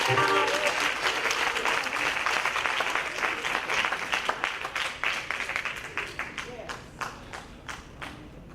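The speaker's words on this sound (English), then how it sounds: "Now put them together and clap victory. Clap in victory." A church congregation claps together in rapid unison, the sharp claps thinning out and spacing into fewer, distinct hits as the clapping winds down.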